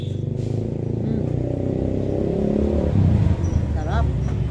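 Cars and motorcycles pass steadily on a busy road beside a roadside lomi eatery, their engine hum rising and swelling near the end, with some chatter in the background.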